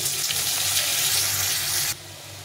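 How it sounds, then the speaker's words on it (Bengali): Potatoes seasoned with salt and turmeric fry in oil left from frying fish, giving a dense, loud sizzle for about two seconds that then drops to a quieter hiss; no speech. "আলুগুলো একটু নুন হলুদ দিয়ে ভেজে নেব।"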